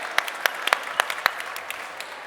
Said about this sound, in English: Can we have a round of applause for our models today?